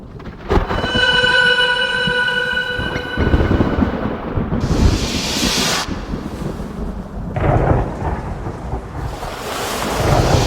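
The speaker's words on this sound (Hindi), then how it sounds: "अगर ये तूफान नहीं थमा तो हमारा जहाज डूब जाएगा।" A storm at sea with rolling thunder, heavy rain and wind: a dense, constant roar with a deep rumbling crash near the start and bursts of hissing spray and rain, loud and without any voices.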